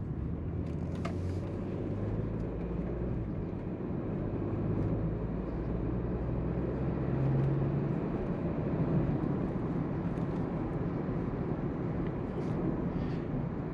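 The turbocharged engine of a 2021 Porsche Macan S, heard from inside the cabin as a steady low rumble with road and wind noise, staying even and fairly loud with no speech.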